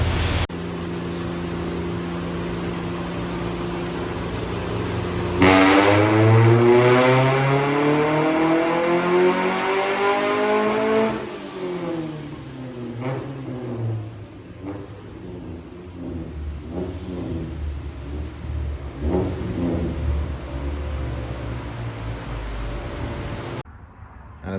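A B20 engine car revs hard on a dyno while running on a bad injector, loud and sustained, with rising and falling engine pitch sweeping through a long pull before winding down.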